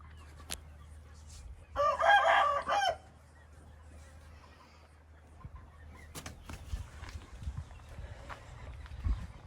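An Aseel rooster crows once, a loud, clear call near at hand, then quiet scratching and rustling noises follow in a farmyard setting.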